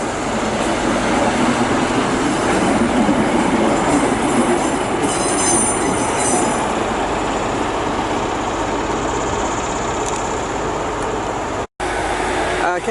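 A train pulls out of Bristol Temple Meads station, its engine rumbling steadily as the wheels squeal and carriages clatter close by, with a voice speaking briefly over the continuous noise.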